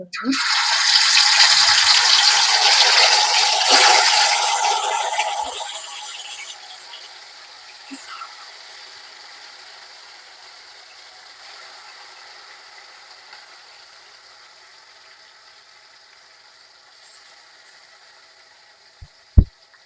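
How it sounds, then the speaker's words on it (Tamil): Chicken pieces dropping into hot oil for home-style biryani, a loud crackling hiss bursting up at first, then settling into a quieter, steady frying sizzle that fades over the following seconds. "இப்போ எண்ணெய் நல்லா சூடாயிடுச்சு. இப்போ நான் சிக்கன் வந்துட்டு போடுறேன்."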